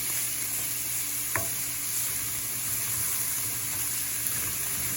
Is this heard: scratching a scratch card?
no